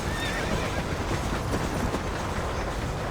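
Horse in Red Dead Redemption whinnying over steady clip-clop of hooves and a rumbling, rolling background, close and continuous for a few seconds.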